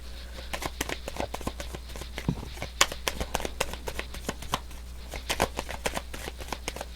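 A tarot deck is shuffled by hand up close, giving rapid, irregular riffles and soft card slaps over a steady low hum.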